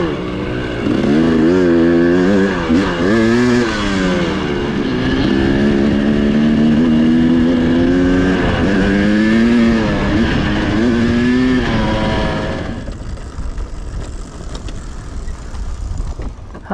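Dirt bike fitted with an XTNG Gen3 Pro carburetor being ridden: a loud, close engine revs and wavers in pitch through repeated throttle changes, then drops away and eases off near the end.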